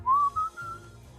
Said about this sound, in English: I can do the whistling.